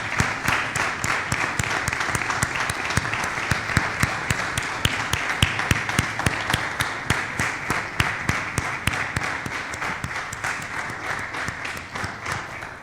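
Steady congregational applause at a Christian worship broadcast, dense and sustained clapping with sharp individual claps throughout, fairly loud and continuous with no talking over it.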